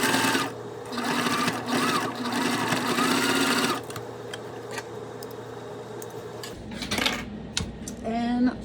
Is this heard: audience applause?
no